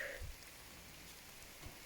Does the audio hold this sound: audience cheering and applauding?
no